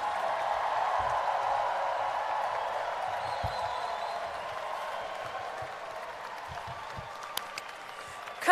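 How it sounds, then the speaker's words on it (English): A final round of applause for graduates at an engineering master's commencement, a dense, distant wash of many hands clapping that slowly fades, with faint scattered sounds near the end. "Let's give all our graduates a final round of applause."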